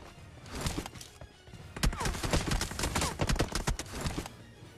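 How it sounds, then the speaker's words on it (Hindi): Gunfire in the mobile shooter BGMI, a rapid burst of close, punchy shots from behind that grows into a sustained volley over busy in-game footsteps and movement noise. "और देखना मेरे पे पीछे से फायर होता है।"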